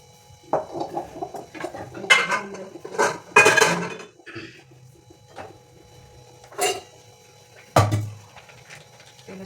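A kadhai cooking pan and other metal cookware get handled and set down in a home kitchen: a handful of sharp clanks and scrapes spaced a few seconds apart, fairly close, with no talking.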